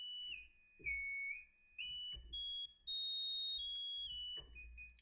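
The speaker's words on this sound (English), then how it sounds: "that's how you make a West Coast G-Funk whistle" A synthesized West Coast G-funk whistle lead glides between sustained high-pitched notes, sliding up and down in a smooth melody over a thumping bass beat.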